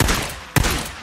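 Gunfire in the video game Days Gone, a dense crackling volley with one sharp, loud shot standing out midway, continuous burst noise filling the rest.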